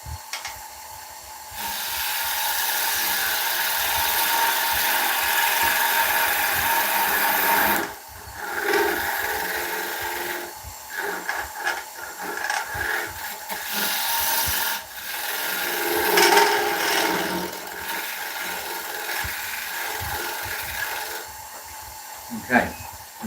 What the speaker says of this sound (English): Tenon's a little bit large for my liking,